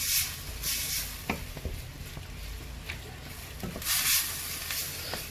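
Spicy sardine varuval with black pepper and cumin is stirred in a pan, a steady close sizzle broken by scraping strokes of the spoon and a few louder swirls, with no talking.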